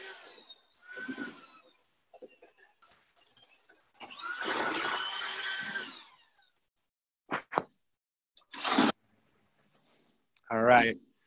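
Bursts of a power drill whirring and churning thick stucco in a bucket, separated by clicks, knocks and brief pauses, with some speech.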